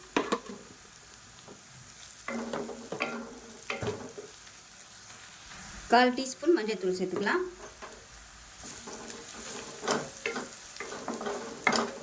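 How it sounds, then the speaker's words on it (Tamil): Onions with chilli powder sizzle softly in a pan while being stirred, a low steady frying hiss broken by scraping stir strokes, with a voice speaking over it. "இது எல்லாத்தையுமே நல்லா வதக்கியாச்சு."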